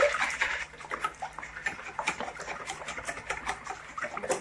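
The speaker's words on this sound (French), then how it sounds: "Je vais mélanger avec les 150 ml de lait. Hop, on va fouetter un petit peu." Rapid rhythmic clinking and tapping of a whisk beating eggs with milk in a bowl, close and steady, with soft liquid sloshing and no talking.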